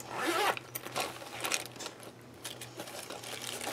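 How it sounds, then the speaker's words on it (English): A large zipper bag from an art kit is zipped in several quick, scratchy strokes close up, with small clicks and rustles between them. "I had this large zipper bag"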